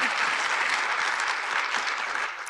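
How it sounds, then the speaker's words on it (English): Audience applause at a talk show about trafficking victims, dense and steady clapping from a crowd sustained throughout, fairly loud and with no speech over it. "Y'all can applaud."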